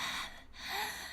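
Heavy, close breathing and panting right at the ear from a scene in the visual novel game Chaos;Child, a steady airy rush with a brief dip midway.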